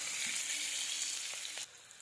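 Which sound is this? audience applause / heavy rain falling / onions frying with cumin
onions frying with cumin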